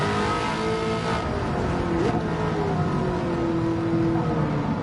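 A Pontiac Trans Am in Gran Turismo 7, fitted with a swapped engine, running loud and steady with a sustained engine drone and a brief rise in revs partway through, with no talking.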